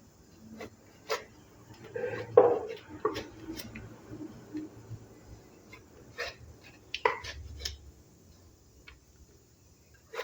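A knife works through a jackfruit for an echor chingri dish, producing sparse, irregular close cuts and scraping taps against a quiet kitchen background.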